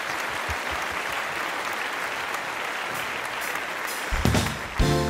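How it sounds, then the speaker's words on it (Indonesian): Children clap together at a church service, a steady wash of applause with a few louder claps and brief voices near the end. "Oke, tepuk tangan buat Tuhan kita."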